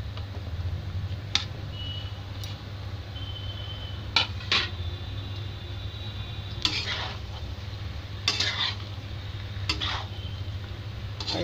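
Cabbage, capsicum and other vegetables for a mixed sabzi stirred in a pan, with a low steady simmer under occasional sharp spoon clinks and scrapes against the pan, close and without talk.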